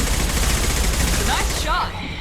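Sustained automatic gunfire in the sci-fi shooter Mass Effect 2, a dense, loud rattle of shots that thins out near the end, with faint speech mixed in.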